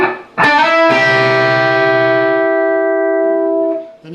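A distorted electric guitar plays part of a riff, a quick picked attack and a slide up on the third string settling into one loud, sustained, buzzing note that rings for a few seconds, then cuts off.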